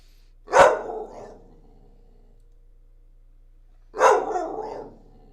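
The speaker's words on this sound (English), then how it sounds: "I can't talk that way around my dog because she talks back." A pet dog gives two separate barks about three and a half seconds apart, each loud and close, with a short trailing growl, alone in an otherwise quiet room.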